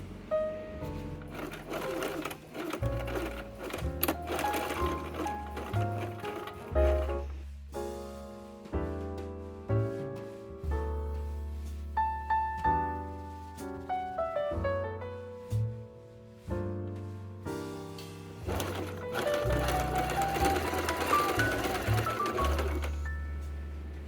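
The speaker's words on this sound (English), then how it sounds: "I just finished stitching this facing on." A sewing machine stitches the facing of a waistcoat in a long run of steady, close mechanical whirring, pausing briefly a few times before starting again, with no one speaking.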